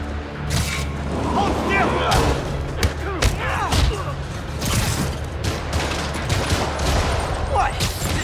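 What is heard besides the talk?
rocket fire and explosions in the video game Spider-Man Remastered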